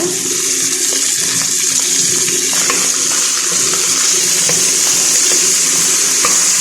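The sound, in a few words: stirring spinach and potato soup in a pot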